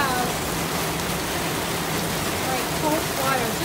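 Heavy rain from a major storm in Houston hisses steadily and loudly, a dense, unbroken downpour filling the whole stretch.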